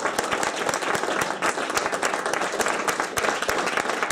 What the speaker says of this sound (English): Let's give one last round of applause for our speaker.